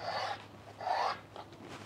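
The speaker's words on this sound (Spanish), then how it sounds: "Voy a partir la carne en pedacitos grandes." A knife cuts beef into large chunks for a home-cooked steak and vegetable dish, heard as two or three soft rasping strokes with short pauses between them, close and quiet.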